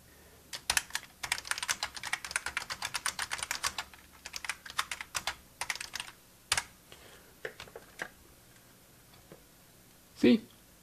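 Fast, close keystrokes on a Canon TypeStar 4 thermal typewriter come in rapid bursts, then thin out into scattered single taps before one louder thump near the end.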